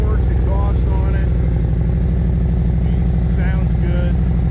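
A motorcycle engine fitted with a Crowworks exhaust runs close and loud, a fast steady throbbing idle with rapid pulses throughout, while faint voices are heard over the rumble.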